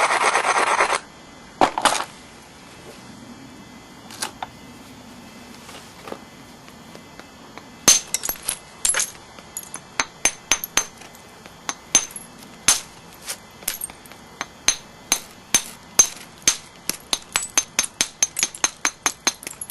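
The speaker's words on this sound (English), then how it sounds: "Just going to braid the edge a little bit, remove a few flakes right off of this edge right here." Stone flakes are knocked off the edge of a piece being flintknapped. First comes abrading and scraping, then a long run of sharp, close clicking strikes, irregular but growing denser toward the end, with no talking.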